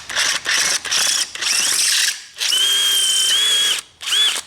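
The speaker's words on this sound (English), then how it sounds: "Well, this should drill all right. It's only aluminium housing." A drill bores through the aluminium housing of a Stihl chainsaw, whining in repeated short bursts that give way to a longer, steady high-pitched cut, close and loud with no talking.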